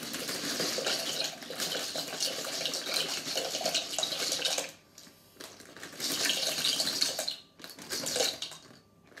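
Water runs into the mixing bowl of a Thermomix TM6 that already holds oil while pasta is prepared, a steady splashing pour with two short pauses, close and fairly loud, with no talk.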